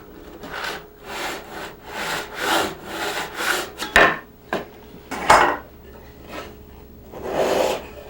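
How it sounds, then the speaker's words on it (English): A hand saw cuts a tenon cheek in wood with steady back-and-forth rasping strokes, close and clear, ending in a few sharper knocks and scrapes. "If you keep the saw square on the cheek, the waist should just fall off when you reach the shoulder."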